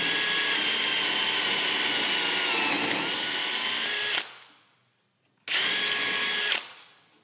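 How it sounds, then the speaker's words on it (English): A power drill with a 1/4 inch bit bores into a handrail post in a loud, steady whine for about four seconds. It stops, then runs again in a second burst of roughly a second. "We've got our 1/4" drill bit chucked up. Make sure it's centered, double check your measurements,"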